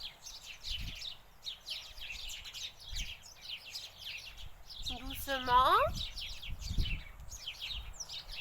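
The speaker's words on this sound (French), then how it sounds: "j'ai les petits oiseaux qui chantent" Small birds singing outdoors, repeated high chirps and twittering trills throughout, with a person speaking briefly in the middle over the birdsong.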